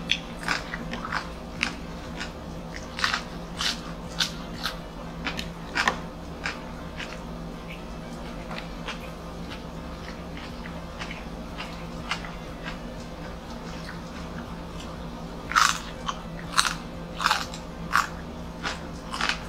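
Someone bites and chews crunchy roast pig lechon up close, producing irregular crackling crunches over a low steady background hum, with a louder cluster of crunches near the end.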